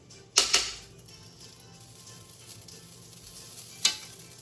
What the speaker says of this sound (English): now we're going to add some more beef tallow into our pan.